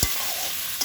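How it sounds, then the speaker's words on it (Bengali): Onions dropped into a hot kadai with cinnamon and cardamom for a Bengali-style chicken curry, a loud steady sizzle that begins with a burst as they hit the oil, close and without speech. "কড়াইতে পেঁয়াজ দিয়ে দিলাম।"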